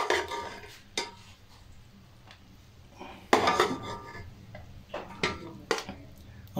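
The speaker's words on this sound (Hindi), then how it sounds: "चलिए डिश आउट करके दिखाता हूँ" A metal spoon serves black pepper biryani out of a cooking pot, with scattered scrapes, clinks and knocks against the pot rim, some louder bursts among quieter pauses, close by.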